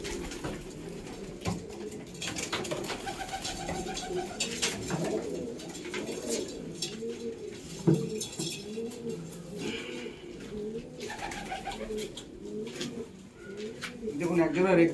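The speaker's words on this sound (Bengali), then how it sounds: "দেখুন একজোড়া রেক্টার পায়রা শখ করাচ্ছি।" Pigeons coo over and over in a steady, rhythmic series up close, a pair of racer pigeons kept as breeding birds at a home loft. A voice talks over them now and then.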